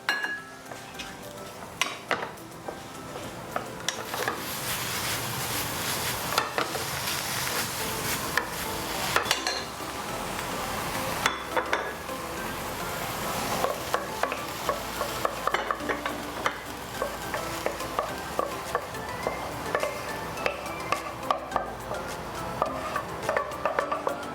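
Prawns sizzle loudly in a pan of fried rice while a spatula stirs and scrapes against the metal in quick, repeated clanks, close and busy throughout with no talking.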